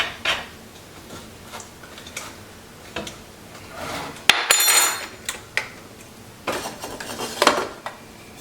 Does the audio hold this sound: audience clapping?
no